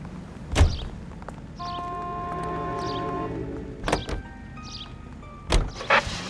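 A car in the L.A. Noire video game, with door thumps and clunks, a whirring electric motor and tonal game sounds over a low idle, no talk.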